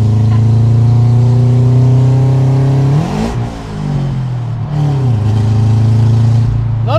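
A tuned Subaru car's engine idling with a deep steady drone, then blipped in two throaty revs that rise and fall, loud and close.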